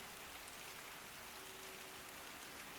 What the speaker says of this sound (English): It just started raining and it's getting all cozy